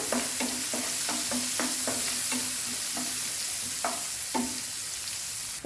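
Onion, ginger and garlic sauté in hot oil in a pan for a fish fry masala, a steady soft sizzle punctuated by a series of rhythmic scraping stirs, close and moderately quiet with no talking.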